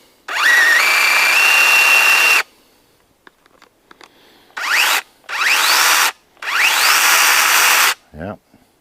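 A Troozy 6 inch cordless electric chainsaw with an oiled bar revs in four loud, close bursts, whining up in pitch as each cut starts, with short quiet gaps and faint clicks between them.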